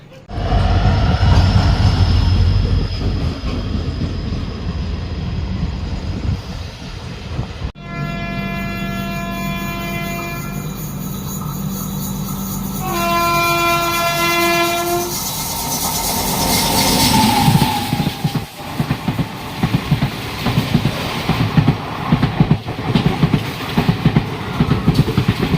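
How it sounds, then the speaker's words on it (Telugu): An Indian passenger train on a Hyderabad to Kumbh Mela journey pulls away from the platform with loud, sustained horn blasts, then rumbles and clatters louder as it gathers speed. "స్టార్ట్ అయిపోతుంది ట్రైన్."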